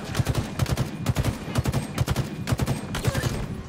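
Rapid automatic gunfire in Halo Infinite, fired through an energy shield, comes in steady repeated bursts with crackling electric zaps layered on each volley, loud and close.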